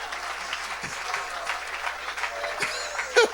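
A church congregation claps and cheers for Jesus, a dense, steady wash of applause filling the room with a few voices rising through it.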